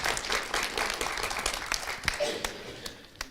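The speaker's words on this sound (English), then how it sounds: "Can you give them a huge welcome and round of applause?" Audience applause welcoming a team at a founding partner program event, dense clapping throughout that gradually thins out, fairly loud and close.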